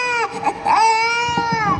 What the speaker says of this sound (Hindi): घर के दरवाजे के पास पहुंचते ही माँ को अपने बच्चे के रोने की आवाज आती है।